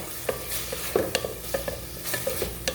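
Tomatoes sauté in a pan for a dish of greens with sardines, a constant sizzle under repeated quick scrapes and taps from a spoon stirring in an uneven rhythm, close up.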